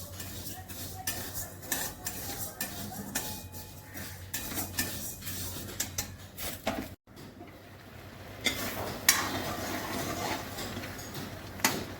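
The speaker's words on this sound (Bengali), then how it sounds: "মুগ ডালটাকে একটুখানি নেড়ে দিচ্ছি কড়াইতে" Raw mung dal is stirred in a metal wok in a home kitchen, with a steady run of light scraping and clinking strokes at a moderate distance, and a few louder clatters.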